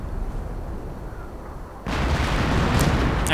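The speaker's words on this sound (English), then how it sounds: "just a ton of artillery going in" Heavy artillery barrage in the WWII strategy game Company of Heroes, a low rumbling under battle noise that suddenly swells into a loud, dense roar of continuous blasts.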